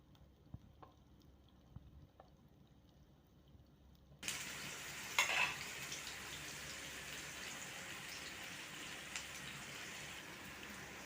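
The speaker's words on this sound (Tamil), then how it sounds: "நல்லா சூடு வந்த பிறகு ஆயில், பட்டை, கிராம்பு, ஏலக்காய் எப்போதும் மாதிரி போட்டு தாளிச்சிக்க வேண்டியதுதான்." Whole cinnamon, cloves and cardamom dropped into hot oil for tempering, a quiet pan suddenly bursting into a steady, crackling sizzle with a few sharper pops near the start, continuing evenly and moderately loud.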